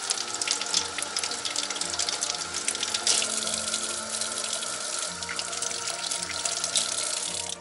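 Water running steadily from a kitchen sink tap onto a potted crown-of-thorns plant, a continuous close splashing gush that lasts throughout and cuts off at the very end.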